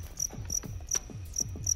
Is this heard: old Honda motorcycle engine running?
no